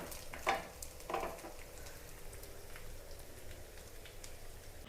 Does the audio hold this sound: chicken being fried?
yes